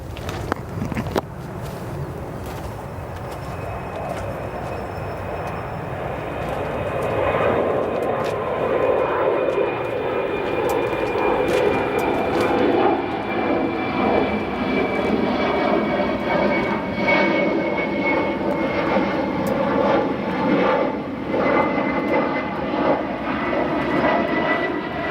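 Jet aircraft at O'Hare Airport, an engine roar building to a loud, steady drone with a rising whine, sustained close by for the whole stretch with no talk over it.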